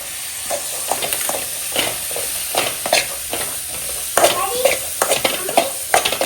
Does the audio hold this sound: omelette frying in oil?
yes